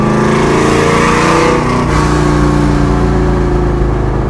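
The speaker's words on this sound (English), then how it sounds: "there's something about the sound you get from the push rod, the stroked motor like that" A 427 stroker pushrod V8 with a big cam in a Ford Torino muscle car roars loudly and steadily, revving with a deep, throaty rumble and a brief dip in pitch partway through.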